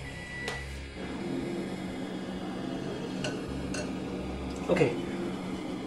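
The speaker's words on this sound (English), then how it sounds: "we're just going to basically scoop it out a little bit at a time and ladle it into the strainer" A metal ladle scoops onion-soup stock from a pot and pours it into a strainer, giving a few sharp clinks of metal on metal over a low kitchen hum.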